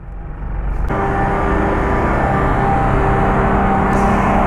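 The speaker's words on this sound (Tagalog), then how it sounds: "napaka-traffic dito sa tulay kasi ginagawa yung tulay dito" Heavy road traffic crawling across a bridge under construction on the Dasmariñas–GMA boundary, a dense continuous roar of engines and tyres that swells in and then holds loud and steady, heard from a delivery rider's motorbike.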